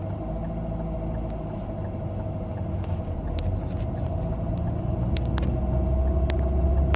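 A motorcycle pulls away on a driving exam course in Sivas, giving a continuous engine rumble that slowly builds in loudness, with no voices.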